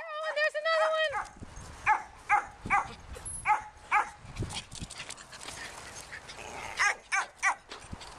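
A dog barks repeatedly in short, loud bursts, while several other dogs play indoors with a tossed ball and a person speaks over the barking.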